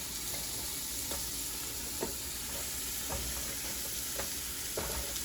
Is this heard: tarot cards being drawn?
no